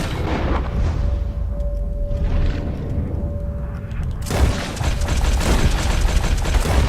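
Video game gunfire in Red Dead Redemption 2, aimed at a giant swamp alligator: dense, booming shots and rapid bursts burst out loud and near, with a sustained rumble of firing filling the later seconds.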